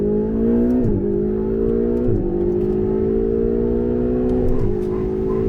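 Ferrari 488 GTB accelerating flat out on the Le Mans circuit, its engine note climbing steadily through the gears with brief dips at each upshift, loud and close throughout.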